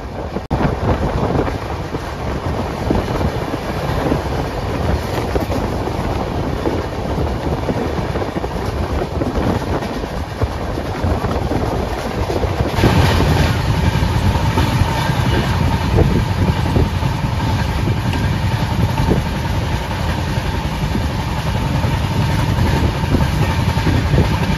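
The Duronto Express runs on the rails between New Delhi and Mumbai, making a loud, continuous rolling roar with wind buffeting that grows slightly heavier partway through and goes on without pause, with no voices.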